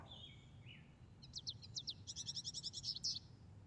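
An American goldfinch sings a run of bright, quick chirps and twittering notes, fairly faint and close, with a few thin call notes before the rapid song and no voices.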